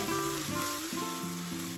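Garlic goes into onions frying in a soup pot for Mexican meatball soup, producing a steady, close sizzle with a brief clatter at the end.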